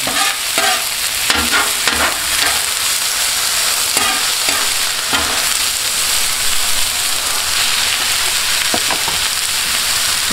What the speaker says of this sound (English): Then we're just going to throw our peppers and hatch green chili and all that up in here. We're going to start letting that cook a little bit.